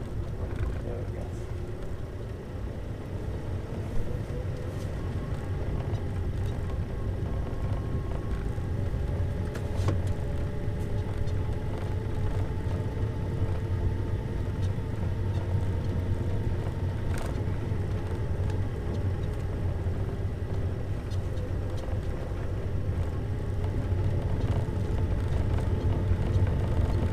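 Car engine revving up as the learner accelerates in second gear through a turn during a driving lesson, a steady droning hum under an instructor's speech throughout.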